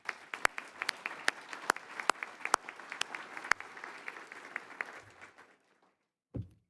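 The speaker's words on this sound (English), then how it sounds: "Let's give them all another round of applause" A small crowd applauds campaign volunteers at a college awards event, with sharp individual claps ringing out over a denser patter that fades away after about five seconds, followed by a brief low thump.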